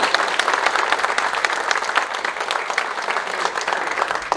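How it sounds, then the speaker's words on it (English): A dinner crowd at a Republican club event applauds its candidates with sustained, lively clapping from many hands, loud and continuous from start to finish. "let's give a round of applause to all our candidates."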